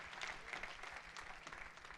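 A church congregation claps for the King of Glory, quiet and distant-sounding, with steady massed clapping and a few sharper claps standing out.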